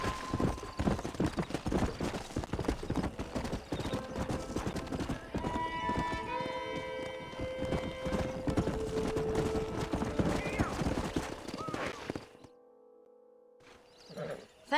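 Horse hooves and neighing in the Red Dead Redemption video game, a busy run of clip-clop beats with whinnies and snorts over game ambience, then a sudden drop to quiet before another short burst.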